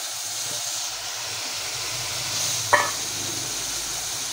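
Green banana curry simmers in a pan while it is stirred, a steady close hiss of steam and sizzle with one brief scrape of a utensil near the end.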